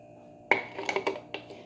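A pressure cooker lid is set onto a pot holding mutton and water for karahi gosht: a sharp metallic clank, then several lighter clinks and taps as it is seated, close and fairly loud.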